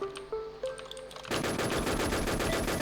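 Shooter video game gunfire: a few separate shots, then a loud, steady burst of rapid automatic fire that carries on to the end, with no talking.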